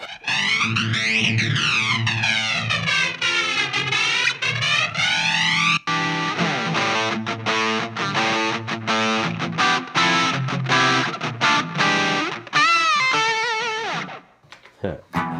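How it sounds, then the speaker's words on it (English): Electric guitar through an Ibanez PT 5 pedal set for light distortion, with strummed chords and ringing notes shimmering under a sweeping, chorus-like modulation, loud and continuous before fading at the end, with no talking. "There's not a lot of distortion on that one. A nice clean sound."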